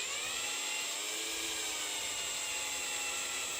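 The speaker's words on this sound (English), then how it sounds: "Tightening the screws without putting any unwanted tension on the baffle or on the basket." Powered screwdriver tightening screws on the speaker baffle of a lacquered tweed Harley Benton Tube 5 combo amp, a steady, whining motor hum held for several seconds, close and moderately loud.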